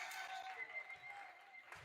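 Crowd clapping in a community college men's basketball gym: faint, steady scattered applause from a distant crowd, with a sports commentator talking over it.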